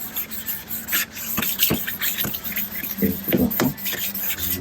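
Rubbing and rasping strokes of sandpaper on a yellowed plastic headlight lens from an old Daihatsu Atrai Wagon Custom RS, a series of short scraping passes close by with no talk.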